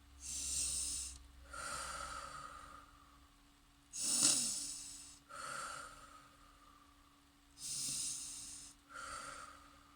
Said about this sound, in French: Vous allez donc fermer vos yeux, prendre 3 bonnes respirations